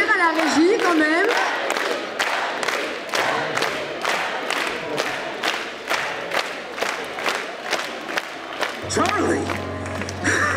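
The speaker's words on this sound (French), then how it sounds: "on peut les applaudir à la régie quand même." An audience at a cosplay parade at Gamefest Charleville-Mézières 2024 claps together in a steady rhythm, with crowd noise and shouts mixed in. Music swells in near the end.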